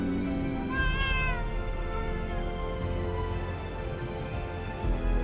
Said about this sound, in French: Les petits utilisent des miaulements et d'autres sons pour appeler leur mère.